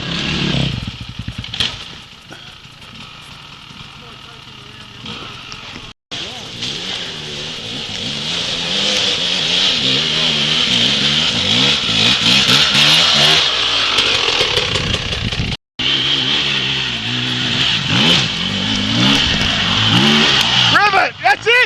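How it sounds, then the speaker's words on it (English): Motorcycle engine revving and accelerating hard during off-road riding instruction, loud and sustained with rising and falling engine pitch, broken by two brief dropouts, while a coach shouts over it. "More throttle!"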